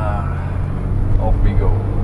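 A 1991 Subaru Sambar Dias2 supercharged AWD kei van making a U-turn, a low steady engine hum heard from inside the cabin beneath someone talking.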